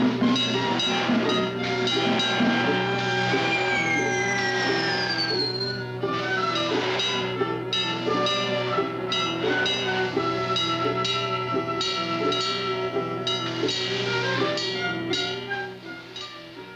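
Steam train from an old film running steadily, its rhythmic chugging blended with a constant orchestral soundtrack throughout, moderately loud with no clear separation.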